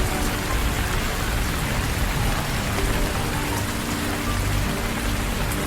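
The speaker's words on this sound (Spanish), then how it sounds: "se desató una tormenta de lluvia intensa" Heavy, steady rain pouring down in an intense storm, a dense continuous hiss of drops hitting surfaces that stays loud and unbroken throughout, with no voices.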